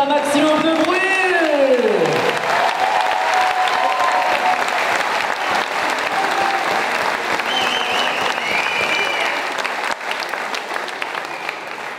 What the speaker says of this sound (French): on peut les applaudir une dernière fois, s'il vous plaît. Faites un maximum de bruit